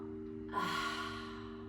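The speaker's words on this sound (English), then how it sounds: "Audible exhale." One audible exhale during a guided breathing practice, a soft, airy sigh through the mouth lasting about a second, close and gentle over a faint steady hum.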